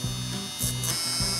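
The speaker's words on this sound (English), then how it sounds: "I use a mini grinder with low rotation for sanding the Kevlar hinge." A mini grinder running at low rotation sanding a Kevlar elevator hinge on a DLG glider, a close, steady buzzing whir with rhythmic pulses roughly every half second.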